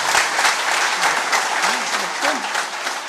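An audience at a political rally breaks into dense, sustained applause, a close, steady roar of many hands clapping with faint crowd murmur underneath.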